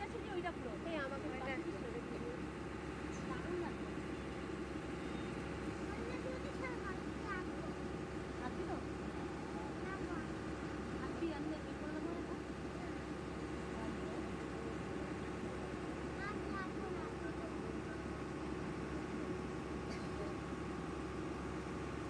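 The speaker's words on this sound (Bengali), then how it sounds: "আর এইদিকে দেখো আমাদের নৌকার সাথে আরেকটা নৌকো চলছিল।" A boat engine drones steadily on a calm river while another boat runs alongside, a continuous low hum that carries through the whole stretch with a voice talking intermittently over it.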